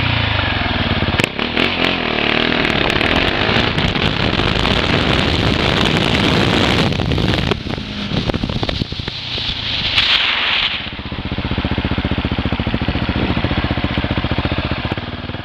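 A KTM 690 Duke single-cylinder motorcycle is ridden and accelerated, its engine roaring loudly and continuously with rising revs and wind buffeting close to a helmet-mounted microphone.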